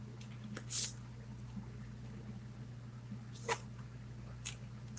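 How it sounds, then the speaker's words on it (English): A pet house cat makes two or three brief, faint sounds spaced apart over a quiet indoor hum. "Now, my kitty's name is Dozer"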